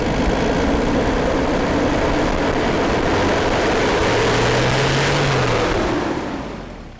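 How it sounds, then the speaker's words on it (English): A Holden Isuzu Rodeo engine with a power loss runs while an intercooler hose is squeezed. It makes a loud, continuous close-up roar with a rising drone midway before tapering off. "just squeeze this hose like that and just rev the car"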